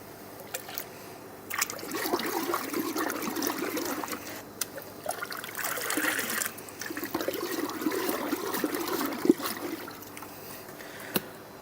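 Nutrient solution is stirred in a 400-litre water tank, giving soft sloshing, trickling water in uneven bursts with occasional small clunks, fairly quiet and close.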